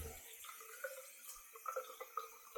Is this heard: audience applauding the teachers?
no